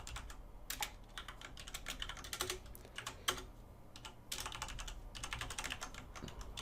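Rapid typing on a computer keyboard while entering code, with irregular bursts of clicking keystrokes and brief pauses, close up and fairly quiet, with no talking.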